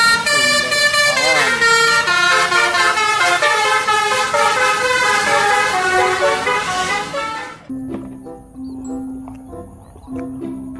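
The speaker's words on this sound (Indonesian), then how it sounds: "Kali ini ada bus Sumber Alam." A Sumber Alam bus sounds a loud, melodic multi-tone horn close by for several seconds as it passes, then the horn cuts off, leaving quieter road noise and a lower repeated tone.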